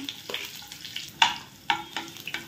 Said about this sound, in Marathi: यामध्ये सर्वात आधी आपण लसूण पाकळ्या ठेचलेल्या टाकून घेऊया